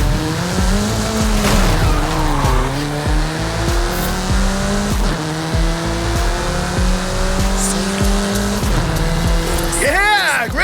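Car in the Forza Horizon 5 racing game accelerating hard at speed, a loud continuous engine roar with shifting pitch through gear changes and tire squeal, with a voice speaking over it.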